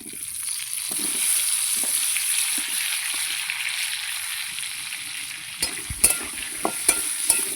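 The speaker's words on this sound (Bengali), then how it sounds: "প্রথমে আমি আলুটাকে ভেজে নেব।" Potato pieces frying in a little oil in a wok, a steady close sizzle throughout with a few sharp clinks and scrapes of stirring near the end.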